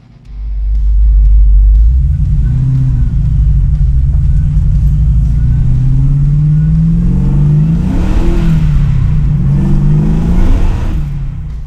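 A 1969 Chevy Camaro with a roughly 1000-horsepower engine roars into a sustained, loud rev. A deep, rumbling growl rises and holds steady with no voices.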